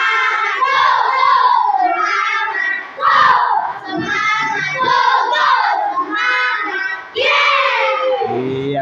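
A school class of children performs a loud rhythmic clapping chant together, voices shouting in unison over patterned hand claps, close and energetic throughout.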